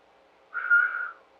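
A person imitates a whistle with a single short, clear, steady tone that stands alone against quiet.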